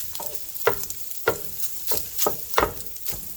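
Sausage browning in a pan, steady sizzle broken by about six sharp scraping stirs at a fairly regular pace, close and without talk.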